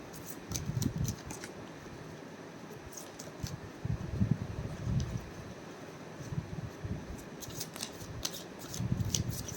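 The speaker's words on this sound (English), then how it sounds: "let me shuffle." Tarot cards are shuffled in soft, papery riffling bursts, repeated several times with brief pauses, close and fairly quiet with faint clicks.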